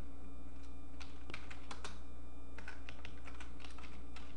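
Quick bursts of keystrokes on a computer keyboard as a company name is typed for a logo in graphic design software, several short clusters of clicking taps separated by pauses, close and clear over a faint steady hum.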